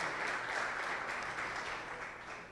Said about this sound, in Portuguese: Você pode aplaudir a Jesus pela sua palavra.